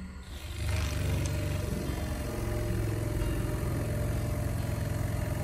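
An induction motor hums and rumbles steadily as a mechanical load is applied to it, with a dense, even drone that swells slightly after the first second and then holds constant.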